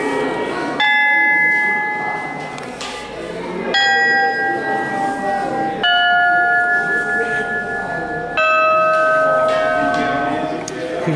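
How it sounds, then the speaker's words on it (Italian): Antique church bells, some dating from 1407 and 1722, struck in four separate loud rings, each a bright sustained chime with clear ringing overtones that slowly decays before the next strike, heard at a bell-ringers' gathering in Imola. "Vediamo le campane antiche"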